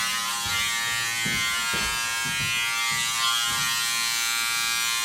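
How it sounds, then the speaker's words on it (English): Electric hair clippers run over a comb while cutting a skin fade at a barber's chair, a steady close buzz with short bursts where the blades bite into hair, no talk over it. "we'll just do a little bit of clipper over comb"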